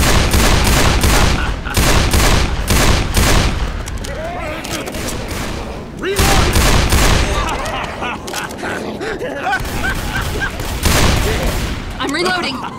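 Rapid volleys of loud gunfire from the zombie shooter Left 4 Dead, including hunting rifle shots, in dense bursts that pause briefly and resume, with game voices and effects mixed in between.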